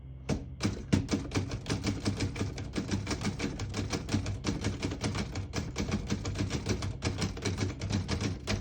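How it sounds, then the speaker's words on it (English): Typing on a 1938 Remington Noiseless Model 7 portable typewriter in excellent condition, a fast steady run of muffled, close key strikes with brief pauses between words, alone without talk. "I'll type a sentence on the next line."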